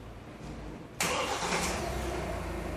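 A Hyundai Tucson's engine cranks and catches about a second in, a sudden loud broadband burst that settles into a steady close idle with no talk.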